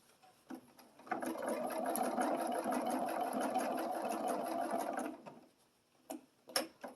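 A sewing machine stitches a quilted Halloween table runner in one steady four-second burst of fast mechanical whirring, framed by a few clicks and handling taps before and after, up close with no talk.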